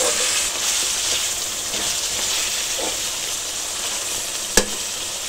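Mutton fries bhuna-style in a pot over a lowered flame, giving a constant loud sizzling hiss up close, with one sharp knock of a utensil near the end.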